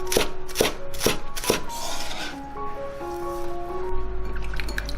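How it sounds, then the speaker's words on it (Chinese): Knife chopping scallions on a cutting board, four sharp evenly spaced chops in the first two seconds, then quieter scraping and handling with no talk. "肉末剁好之后，我们再来切一些葱"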